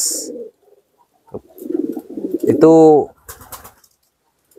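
A pigeon gives a single deep, rolling coo, close and clear, with a person talking just before and after it.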